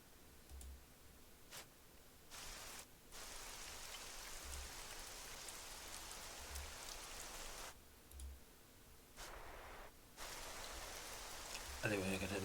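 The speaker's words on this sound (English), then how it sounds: "So some rain comes down, just adding to the dismal atmosphere." Rain weather effect in a Foundry VTT virtual tabletop, a soft, steady patter of falling rain with brief dropouts where the sound cuts away, heard faintly throughout.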